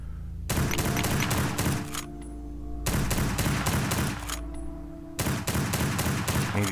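Rapid automatic gunfire in Lovecraft's Untold Stories, three loud bursts of dense rattling shots separated by short pauses with a ringing tone between them, close and sharp.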